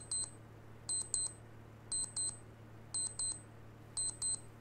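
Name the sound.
alarm going off on Librem 5 phone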